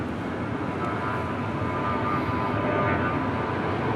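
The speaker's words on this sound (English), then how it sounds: "Also have a FedEx MD-11 pushing back." A FedEx MD-11 pushing back at Los Angeles International Airport, with a steady broadband engine rumble and a faint tonal whine holding constant throughout at moderate distance.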